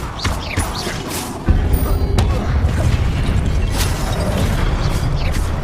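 An Expelliarmus spell cast in the Hogwarts Legacy video game lands with a deep booming impact partway through, followed by a rumbling, crackling magical burst that holds over busy background effects.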